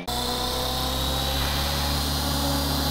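A model helicopter's rotor and motor run loud and close, a steady buzzing drone with a faint rising whine as the rotor speed climbs.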